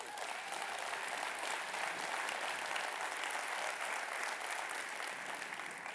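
An audience applauding together, dense sustained clapping that fills the whole stretch at a steady level, with a faint murmur of voices underneath.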